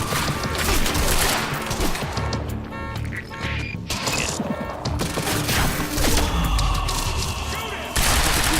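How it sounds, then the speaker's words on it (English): Rapid gunfire in the Quantum Break video game as stacked bullets strike at once, a loud, dense barrage of shots layered over game sound effects and a speaking voice. "you stack bullets on them, and then when time unfreezes, all the bullets you've stacked on top of them hit them"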